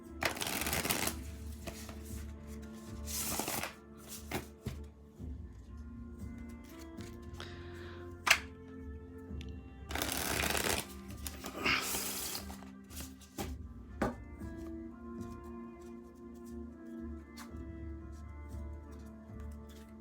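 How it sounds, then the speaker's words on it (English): Tarot cards being shuffled nearby in several separate bursts of riffling and flapping, with quiet pauses between them. "I'm going to shuffle this."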